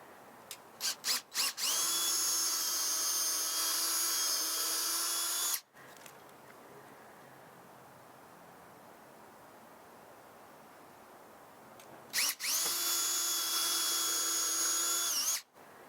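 A power drill whirs loudly in two bursts, about four and three seconds long, drilling under a soffit edge, with a quiet pause between them and short starts at the beginning.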